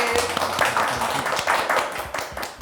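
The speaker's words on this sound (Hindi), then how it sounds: "जोरदार तालियां हो जाए" An audience at a Hindi TV show event breaks into brisk, steady clapping that is fairly close and moderately loud, with a voice briefly heard beneath it.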